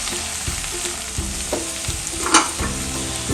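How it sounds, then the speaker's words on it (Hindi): Methi malai matar frying in a pan as turmeric is stirred in, with scraping spoon strokes against the pan over a steady sizzle. "इसको थोड़ी देर चला देते हैं।"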